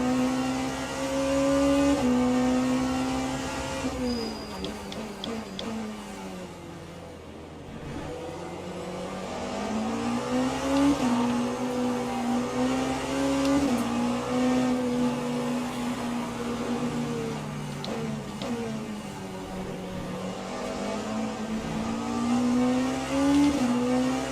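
Multiclass race cars in Le Mans Ultimate at Bahrain Outer, including a Cadillac and a Mustang, roar steadily throughout as engines rev and shift through gears while passing in traffic, loud and continuous with no talk.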